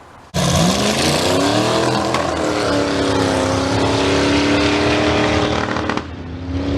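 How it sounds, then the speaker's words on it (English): A loud car engine with worn valve springs revs hard and holds high revs, around 5,500 rpm, rough and crackly with backfiring, spitting and sputtering pops, then drops away near the end. "You'll notice that this thing was backfiring and spitting and popping a lot."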